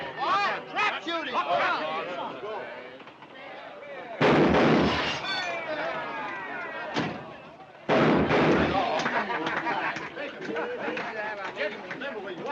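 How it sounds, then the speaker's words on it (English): Two loud shotgun blasts at a trap shooting range, each a sharp, heavy bang with a ringing tail, spaced a few seconds apart under busy overlapping talk and chatter. "Trap shooting."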